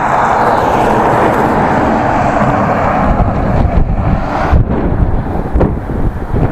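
Steady wind roaring and buffeting against the microphone, loud and continuous with a few gusty dips toward the end.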